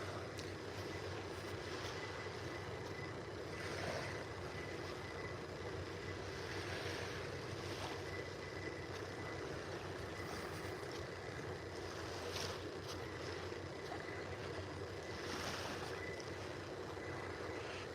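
Steady ocean waves wash in at Vanderbilt Beach in North Naples, Florida, a continuous broadband rush with soft swells and faint wind, no voices.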